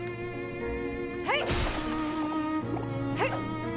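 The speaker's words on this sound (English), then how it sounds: "That's some impressive shattering." A glassy shattering effect from the video game Kingdom Hearts Birth by Sleep 0.2 on PS4 bursts out sharply over a steady musical background, followed by a second, lighter crystalline crash a moment later.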